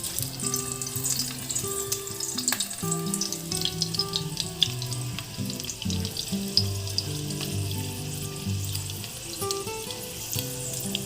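Garlic frying in oil in a pan for a Maharashtrian kolambi rassa, a continuous close sizzle with faint tonal background music running underneath throughout.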